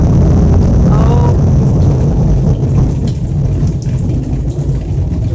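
A thunderstorm in Central Florida after Hurricane Harvey, with heavy rain pouring steadily and close by under low, rolling rumbles of thunder that carry on throughout.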